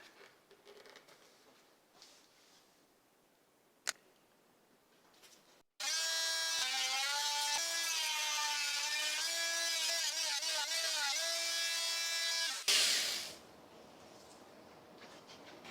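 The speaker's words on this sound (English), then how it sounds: "I didn't quite get it to the right depth with the oscillating tool on the first try" Quiet handling noises give way to an oscillating multi-tool cutting wood for a guitar test jig: a loud, harsh buzzing whine that holds for about seven seconds and then cuts off, leaving a soft background hiss.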